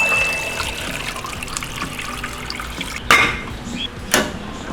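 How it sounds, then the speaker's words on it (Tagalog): Water runs steadily into a pot of pork bones being prepared for soup, a continuous trickling pour with two sharper clanks of metal or bone near the end. "lagyan natin ng tubig"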